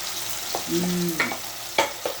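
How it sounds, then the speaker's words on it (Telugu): A spoon stirs turmeric and spices into taro root curry (chamagadda pulusu) frying in a pan, giving a few scraping clinks over a low, steady sizzle, close and moderately loud. "వేసుకున్న తర్వాత అన్నీ బాగా కలుపుకోవాలి"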